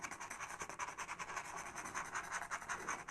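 Pastel rubbed into a painted background of an Australian Shepherd pet portrait, a soft, quiet, steady scratchy rubbing with a rhythmic back-and-forth texture, heard alone.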